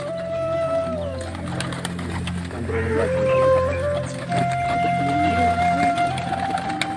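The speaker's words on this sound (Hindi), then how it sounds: "ये जब उड़ते हैं तो बहुत सारे कबूतर हैं" A flock of kept pet pigeons, with soft cooing and bird calls under someone speaking, plus steady tonal background hum; wingbeats of the flock in flight are not clearly distinct.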